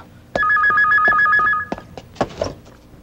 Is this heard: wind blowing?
no